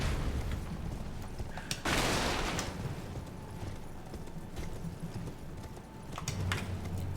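A horse's hooves clip-clop in the Elden Ring video game, a run of quick, rhythmic hoofbeats with a brief rushing burst partway through and a low game soundscape behind.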